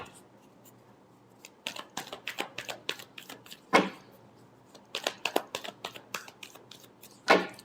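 Tarot cards being shuffled by hand: bursts of crisp, rapid flicking clicks in clusters, each ending with a sharper snap as the deck is squared, close and fairly quiet against a calm background.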